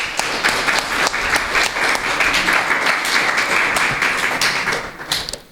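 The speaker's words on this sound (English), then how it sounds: "Can we give them a clap, please?" An audience claps steadily for award winners at a primary schools football awards and closing ceremony, dense applause holding through the clip before thinning out near the end.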